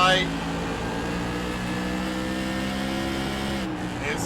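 An auto racing car's engine revs hard and steadily through a drone of harmonics, the car seeming to struggle for grip while the power holds, with a brief break near the end.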